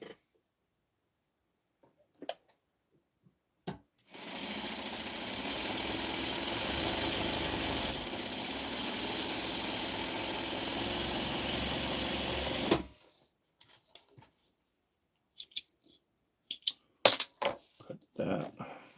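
A sewing machine runs continuously for about nine seconds, stitching a fabric seam with a dense, even whirr, framed by quiet handling clicks and rustles before and after.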